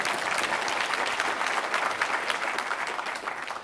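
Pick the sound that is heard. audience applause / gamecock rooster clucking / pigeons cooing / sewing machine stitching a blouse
audience applause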